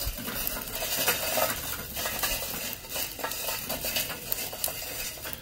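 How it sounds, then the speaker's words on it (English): Hot charcoal is tipped onto a bed of unlit coals in a 22-inch Weber Performer grill, giving a steady, close clatter and rustle of lumps shifting and settling for several seconds with no talking. "we're going to go ahead and add our hot coals to the unlit coals"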